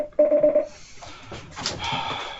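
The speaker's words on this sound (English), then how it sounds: "Sorry, got a phone call and I'm not going to take that one." A telephone rings with a short burst of rapid electronic trills for an incoming call, close and clear, followed by faint room noise and some muffled movement.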